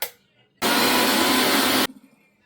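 A kitchen mixer grinder blitzes spice paste with water for egg biryani, a loud steady whirring roar that kicks in abruptly, holds for just over a second, then cuts off sharply, with no talk over it.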